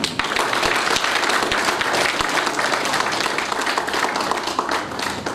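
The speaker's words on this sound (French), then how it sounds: "Je voudrais vous prier d'applaudir pour l'homme de Dieu." A church assembly at a year-end council applauding a pastor, dense sustained clapping from a large crowd filling the room at full strength throughout.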